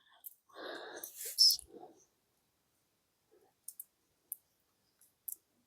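Small opal D&D dice click softly in a leather pouch, a handful of brief, separate taps scattered after a short whispered stretch of talk near the start.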